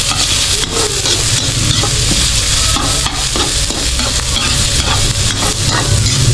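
Adobo cooking in a pan without added oil, giving a loud, steady, close sizzle with dense crackling and popping throughout and no voices.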